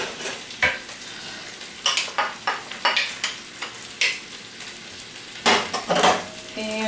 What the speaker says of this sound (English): I'm just mixing up my regular meatloaf